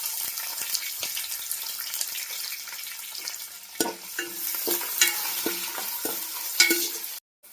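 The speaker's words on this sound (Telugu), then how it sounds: "ఆనియన్స్ మంచిగా ఫ్రై అయ్యాయి కదండి" Onions and green chillies fry in a pan, a steady close sizzle with scattered stirring clicks and scrapes throughout, ending abruptly.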